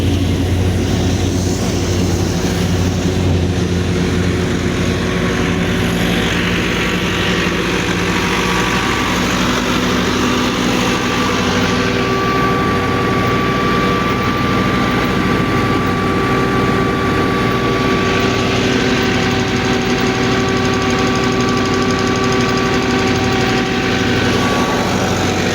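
A Massey 385 tractor runs steadily at 1400 rpm, powering a brand-new wheat thresher. The low engine drone is loud and unbroken throughout, with no talk over it.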